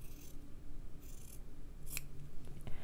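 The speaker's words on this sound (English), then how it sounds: "I'm going to use my pinking shears. Just going to cut the edge here." Pinking shears snip along a fabric edge, a few crisp, separate metallic cuts close up in a quiet room, with no talk.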